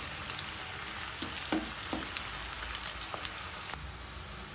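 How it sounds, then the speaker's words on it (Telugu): Onions sizzle steadily in a hot pan as they fry toward brown, a dense continuous crackle with a few soft stirring clinks, close and even in level, with no talking. "ఆనియన్ ఎప్పుడు కూడా బ్రౌన్ కలర్ వచ్చేంత వరకు ఫ్రై చేసుకోవాలి"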